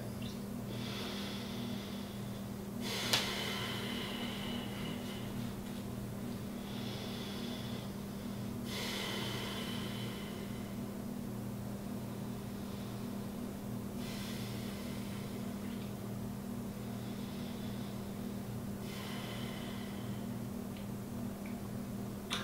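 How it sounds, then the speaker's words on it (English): Slow deep breaths repeat every five or six seconds as drawn-out airy inhales and exhales, close to the microphone over a steady low electrical hum, with one sharp click early on. "Well, your brain needs oxygen to work. Hey, breathing is a pretty good thing."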